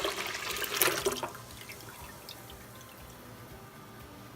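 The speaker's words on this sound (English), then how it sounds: "then I take this container and I pour it in" Milk poured from a container through a folded filter into a pan, a steady close trickle and splash of liquid that is strongest at first and then settles into a quieter continuous flow.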